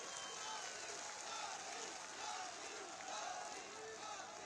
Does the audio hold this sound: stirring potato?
no